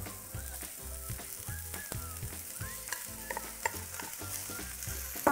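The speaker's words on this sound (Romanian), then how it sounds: "Am să-l amestec foarte bine și am să-l las să se prăjească ușor, ușor." Cooked rice with vegetables, sesame oil, soy sauce and rice wine is tossed in a hot pan, producing a continuous sizzle broken by repeated scraping stir strokes at a moderate level, with no voices.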